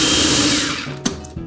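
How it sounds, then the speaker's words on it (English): A kitchen blender whirs loudly as it purees garlic, feta cheese, milk and vegetable oil, a dense steady motor roar that winds down near the end, followed by a couple of small knocks. "You can do it in a blender."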